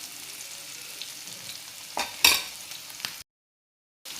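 Bitter gourd pieces fry in a pan over low heat, a steady soft sizzle with a few louder stirring scrapes and crackles before it cuts to a brief silence.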